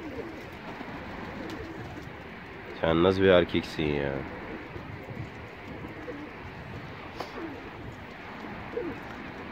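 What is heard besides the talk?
male pigeon cooing in a pigeon loft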